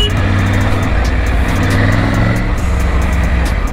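A Triumph Tiger 900 motorcycle riding along a trail, its engine a steady loud drone that rises and falls slightly in pitch, close and continuous, with no voices.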